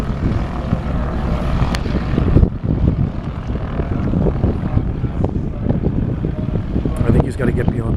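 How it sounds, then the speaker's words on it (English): Cessna floatplane engine throttling up for takeoff from a dock, a steady loud propeller drone with broad rumbling noise throughout, briefly dipping and then surging again, with some background voices. "So he's gonna crank up the freaking juice on this baby and take off."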